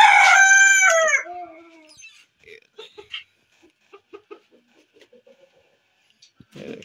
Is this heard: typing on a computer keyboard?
no